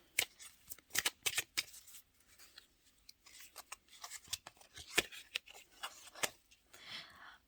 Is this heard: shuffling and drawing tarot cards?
yes